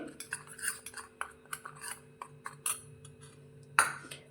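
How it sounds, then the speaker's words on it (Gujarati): A spoon stirs and scrapes a dry spice mix in a bowl, seasoning for a masala papad topping, with a steady run of light metallic clinks and taps near the mic and one sharper clink near the end; no talking. "અને બધા જ મસાલાને આપણે સારી રીતે મિક્સ કરી લઈશું"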